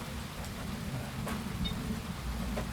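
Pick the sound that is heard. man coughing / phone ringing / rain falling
rain falling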